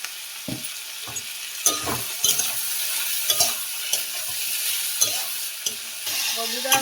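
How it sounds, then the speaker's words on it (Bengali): Potato, bitter gourd and teasel gourd frying in a pan with salt and turmeric, a steady sizzle broken by repeated scraping and stirring clatters, close and continuous with no talk. "বন্ধুরা ভাজাটা হতে থাক"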